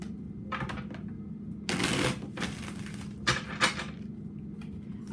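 Tarot cards being drawn and laid out during a reading, heard as soft close shuffling, slapping and flicking bursts over a steady low hum.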